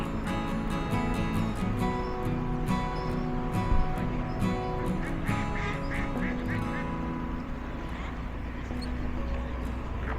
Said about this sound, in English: And a load more ducks further on down.